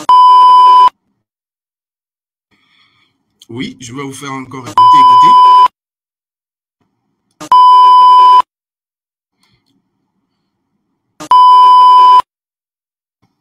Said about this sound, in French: quand vous allumez une télévision et que ce n'est pas encore sur la bonne fréquence, c'est ce son qui vient